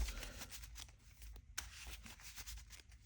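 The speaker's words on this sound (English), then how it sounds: "now we'll give it another shuffle." A deck of Marvel Champions playing cards is shuffled at a table in quiet, rapid riffling bursts, a soft papery flutter with brief pauses between runs.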